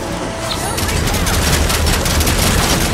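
Gunfire in a VR zombie-shooting game, a dense burst of rapid shots and booms filling the whole moment at close, loud level.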